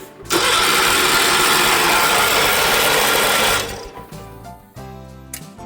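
A 1980 John Deere 216 lawn tractor engine cranks over steadily on the starter for about three seconds without catching, a loud rapid chugging that stops abruptly, followed by quieter clicks and rattles.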